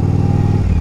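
A 2005 Yamaha V Star 1100 motorcycle engine idling close by, with a steady low rumble and a fast even pulse.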